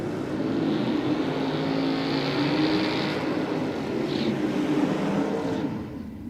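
A drag racing car launching and running at Sydney Dragway, a loud sustained engine roar that holds for several seconds and then fades slightly at the end, heard at a distance with no talk.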